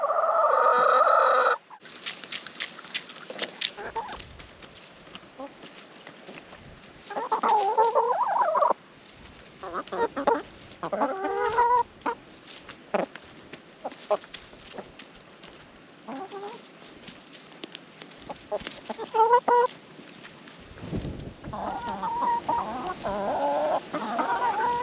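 Chickens cluck and gobble in bursts, some close and some farther off, over a steady outdoor background with an occasional crow.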